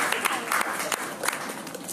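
Guests at a farewell celebration in a New Delhi YMCA hall applaud a poet, with brisk clapping from a crowd filling two seconds alongside a voice.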